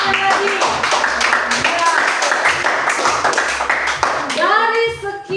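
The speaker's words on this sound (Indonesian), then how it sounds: "kita beri tepuk tangan lagi" Audience clapping at a church gathering in Ambon, mixed with children's voices and a short spoken word, followed near the end by a rising tonal flourish.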